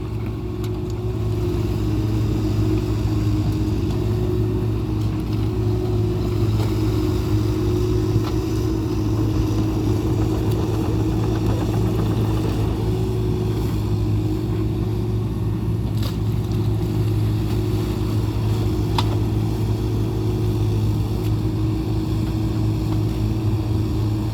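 Excavators, an SK140-8 and a KX91-3, dredging mud from a shallow canal, with a steady diesel engine drone running close throughout and no voices.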